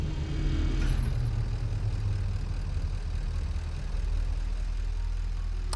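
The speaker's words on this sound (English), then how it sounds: "So there is a mysterious tractor somewhere about." The engine of a tractor in the game Satisfactory, a steady, heavy low rumble running without a break at close range, with no voices over it.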